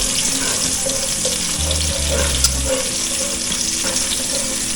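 Onion and ginger fry in a pan for Filipino pork sinigang, a steady close sizzle with occasional stirring scrapes and a low hum running underneath.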